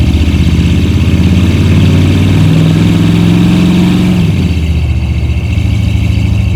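A 1969 Ford F-100 pre-runner truck with a 390 FE V8 rumbles loud and close, its deep engine note holding steady, rising briefly, then dropping back to a lower idle near the end.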